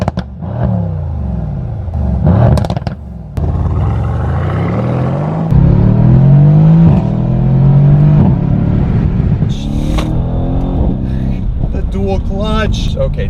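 A supercar engine revving hard, its exhaust popping and crackling, with rising and falling pitch sweeps and a sharp high-revving burst near the end; someone talks excitedly over much of it.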